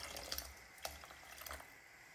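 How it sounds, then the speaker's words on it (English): Water is poured into a pot of vegetable soup with a tomato base, a quiet, steady splashing trickle with a few brief sharper splashes, heard alone and fairly close. "Now, we're adding enough water to cook everything nicely."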